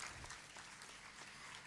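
Sustained audience applause fills a graduation ceremony hall, a dense, steady wash of many hands clapping at even loudness throughout.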